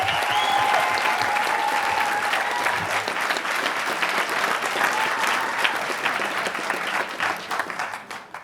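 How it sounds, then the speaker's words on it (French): Audience applause welcoming a speaker at a round table on a general strike, sustained clapping from a room of people over several seconds, fading slightly toward the end. "je vais donner la parole à Mariama Sidibé, que je vous demande d'applaudir"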